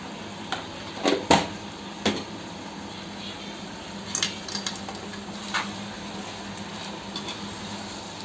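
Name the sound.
stirring chicken gravy after adding turmeric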